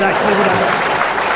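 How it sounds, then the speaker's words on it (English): Audience applause at a book festival event with a comedian, a broad steady wash of clapping that runs the whole moment beneath a person talking. "I thought it deserved a round of applause"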